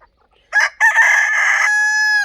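A desi rooster on a free-range poultry farm crows once, loud and close: a brief opening note, a pause, then a long sustained call that ends in a drawn-out high tone.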